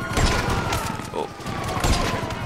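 Dense, rapid gunfire in GTA Online as a player shoots at a helicopter rotor, a continuous loud rattle with a voice talking underneath.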